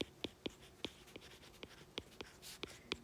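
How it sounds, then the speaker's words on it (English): Writing on a board during a maths lecture, a series of sharp, close taps and short scrapes in an irregular rhythm, clear against a quiet room with no talking. "we'll just wait for me to write this out"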